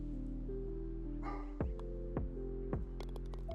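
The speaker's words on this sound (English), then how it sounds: "don't you start barking." Dog barks a few times, faint and intermittent, beneath steady background tones and game sound effects during a PGA Tour 2K golf stream.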